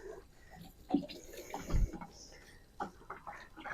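Water trickles and splashes gently onto soil in a container of newly sown lettuce seeds, coming in soft, intermittent pours with brief louder bursts, close and fairly quiet.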